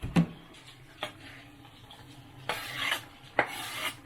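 Niku-jaga ingredients being stirred in a cooking pot, with a few scraping, rubbing strokes and light clatters of utensil against pot, spaced irregularly, quiet and without talk.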